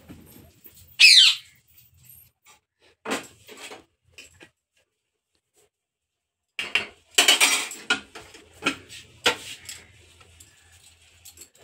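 Metal pots and lids clank and scrape sharply in a home kitchen where rice and lentils are cooking, with scattered clatters separated by quiet gaps and a cluster of louder knocks near the end.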